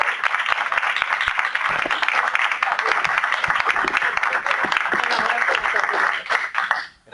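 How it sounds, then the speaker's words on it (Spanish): Dense, steady applause from a conference audience greeting a doctor speaking on diabetes in Celaya. It fills the whole stretch at a fairly loud level and fades briefly near the end, with voices mixed in. "Vamos a darle un aplauso"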